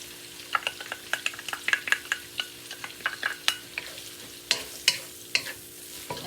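Onion and garlic are stir-fried in a pan for chop suey with rice noodles, with a quick run of sharp spatula clicks and scrapes over a soft, steady sizzle. No one speaks.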